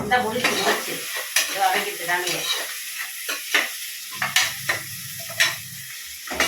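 Onions sautéing in a pan give a continuous close sizzle, broken by repeated scraping stirs and sharp spatula clicks against the pan.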